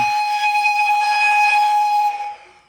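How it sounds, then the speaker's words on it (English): A Roco model locomotive's short signal horn: a single sustained steady whistle-like tone, loud and close, holding for about two seconds before cutting off. "Obviously it has whistles, signal horns, that's the short one."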